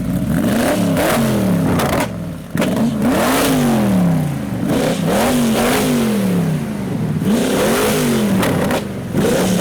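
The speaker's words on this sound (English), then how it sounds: "Oh, the hot rod's leaving." A hot rod leaving a car meet revs hard in loud, repeated throttle blips, its engine note rising and falling in waves over a steady background rumble, with no talking.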